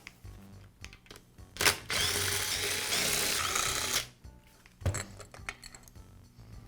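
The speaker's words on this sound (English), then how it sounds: "Now I'll remove the 4 screws that secure the head assembly to the cylinder." A power drill removes screws from the head assembly of a Porter Cable air compressor, with one long whirring run and short bursts, surrounded by clicks and metallic handling noises nearby.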